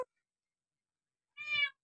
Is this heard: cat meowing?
yes